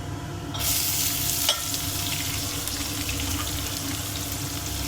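Onions for fried rice drop into hot oil in a pan, setting off a sudden loud sizzle that continues steady and close, with a brief knock of a utensil early on.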